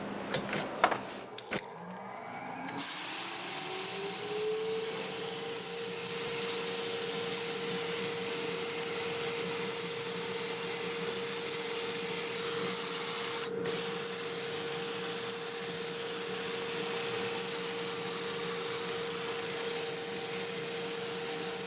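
A wood lathe spins up and runs at about 380 rpm while a bowl is sanded with 120 grit sandpaper, a steady motor hum with soft continuous abrasive hiss and a brief scrape partway through.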